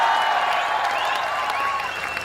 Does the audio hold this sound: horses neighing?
no